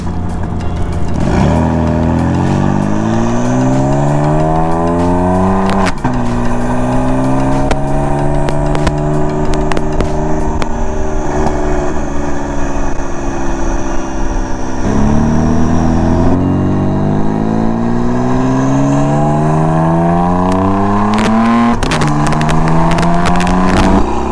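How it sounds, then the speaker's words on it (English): A BMW M4 engine with its exhaust flap open revs up through several gears, its exhaust roaring and rising in pitch, easing off between pulls, close and continuous. "I've got the exhaust flap open, so you can hear how loud it is."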